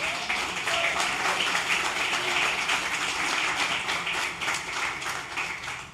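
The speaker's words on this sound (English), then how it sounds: "Please welcome her with a round of applause" A literary festival audience gives a sustained round of applause to welcome a poet, a dense, even patter of many hands clapping at moderate loudness throughout, with no speech over it.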